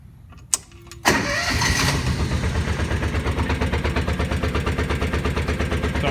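A Kawasaki Mule 2510 utility vehicle with a reinstalled carburetor cranks briefly, then fires and settles into a steady, loud, rhythmic running chug close by, cold engine pulsing evenly until the end.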